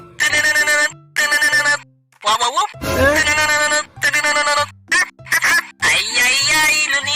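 A toy cellphone plays a loud electronic ringtone melody in repeated bursts with short gaps, some notes sounding warbled and off, as though the toy is broken; the tone is close and fills the whole stretch.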